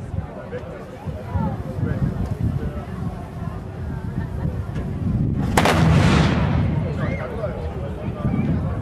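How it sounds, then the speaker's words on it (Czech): A single loud salvo from a multi-barrel 18 mm gun booms out midway at a dragon boat event at Velké Dářko, followed by a rolling roar, with a crowd murmuring faintly in the background. "Tak tady jste měli možnost slyšet výstřel v podání salvy."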